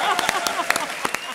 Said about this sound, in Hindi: 250 करोड़ तालियां।